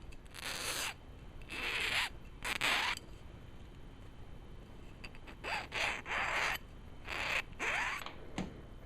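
Brass and sterling silver earring wires are filed down in short, raspy strokes, a series of quiet scratchy bursts with small pauses between them, close and with no talk.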